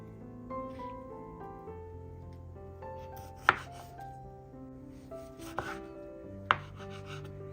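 A knife slicing strawberries on a cutting board, three sharp chopping knocks spaced a few seconds apart over quiet background music tones, close and fairly soft.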